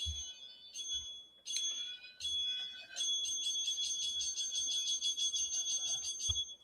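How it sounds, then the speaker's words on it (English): A bell rung indoors, bright high ringing tones starting in short separate strikes, then sounding continuously and steadily for the last few seconds without any talk. "I just held the bell for you."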